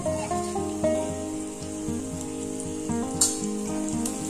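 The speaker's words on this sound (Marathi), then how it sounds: "चांगली परतून घेऊया तेलावर" Green beans sautéing in hot oil with a pinch of turmeric in a pan over high flame, a steady close sizzle with bright crackling spatters and faint utensil clinks throughout, no voices.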